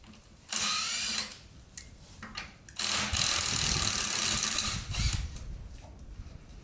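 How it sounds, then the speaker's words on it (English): Impact or power wrench spinning off the remaining wheel nuts on a Jaguar XKR in a workshop, two long loud whirring bursts with a shorter buzz between, close by and with no talk. "I've just taken out all the lock and wheel nuts, and now we can just go around and remove the rest of these."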